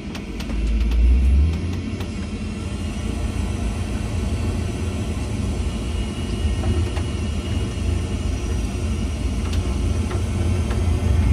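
Airliner engines at takeoff thrust during the roll, a loud steady roar with heavy low rumble and some rattling, swelling near the start and holding constant throughout.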